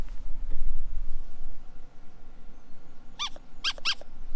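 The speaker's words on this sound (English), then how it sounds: "Squeaky ball." A squeaky rubber dog toy ball, found lying on a farm field headland, gives three sharp squeaks in quick succession after a brief low thump, with steady outdoor background hum beneath.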